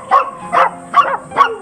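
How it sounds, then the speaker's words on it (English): Dogs at a stray dog shelter in China bark four times in a steady rhythm, close and fairly loud, with no one talking. "There were literally dogs of every type here."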